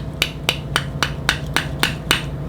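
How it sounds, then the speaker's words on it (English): A roll pin is tapped into place with a hammer, giving eight sharp, evenly spaced metallic taps close by over a low background hum. "we'll just give it a couple tappy taps"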